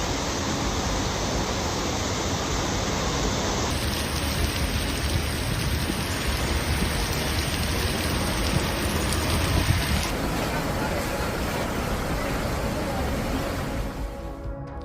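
Heavy rain pours during flash flooding in Queens, New York, a dense continuous hiss of water with a faint high whine joining partway through and traffic-like noise underneath.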